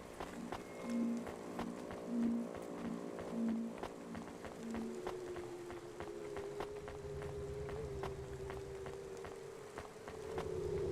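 Rain falls steadily through a rainy cyberpunk city in the video game CloudPunk as a soft, even patter under a low hum and tonal drones, with repeated light ticking drops and no voices.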